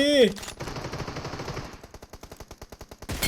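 Automatic gunfire in the battle royale mobile game PUBG Mobile, played in an 8 vs 8 mode: a loud, rapid, evenly spaced burst of shots, close by, follows a brief tonal in-game sound, and a sharp blast comes at the end.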